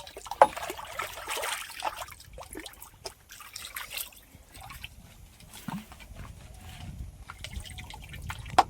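Water trickles and pours into a bucket being prepared for spraying a chilli crop, a soft, uneven liquid stream with dribbles and splashes, fairly quiet and close, with no talking.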